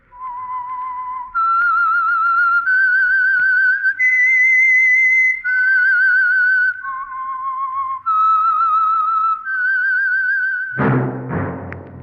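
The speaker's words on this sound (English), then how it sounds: "That whistle is your signal for the Signal Oil Program, The Whistler." A lone person whistling a slow, eerie melodic theme, a sequence of sustained wavering notes stepping up and then back down, clear and close, ending with a brief orchestral sting.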